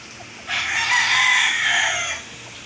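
A single drawn-out rooster-like call from a skittish chicken, loud and close, rising and holding for about two seconds before fading, with no talking.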